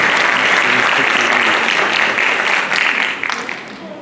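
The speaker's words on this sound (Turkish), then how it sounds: "Profesör Doktor Halis Aydemir hocamızı alkışlarla sahneye davet ediyorum" A conference hall audience at a municipal Ramadan conference in Ordu applauds a professor coming on stage, loud, dense, sustained clapping that thins out toward the end.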